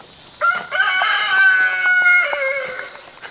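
A rooster crows loudly and close at hand in a penned flock of backyard chickens kept behind netting, the drawn-out call ringing over a few seconds with no talk.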